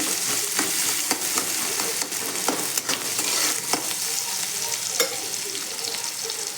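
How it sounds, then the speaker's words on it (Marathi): Chopped onion fries in hot oil in a pan while a utensil stirs it, giving a steady sizzle broken by frequent scraping clicks and knocks, close and loud, with no talking. "आधी कांदा टाकूया. कांदा टाकलेला आहे, लालसर होऊन घेऊया."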